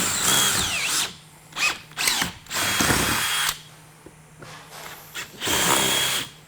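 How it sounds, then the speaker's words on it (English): A power drill fitted with a 3/16 or number 11 bit bores out a rivet on a caster wheel housing, whirring in several bursts separated by pauses. "You'll need a 3/16 or a number 11 drill bit. Just line that up with the rivet and take it out."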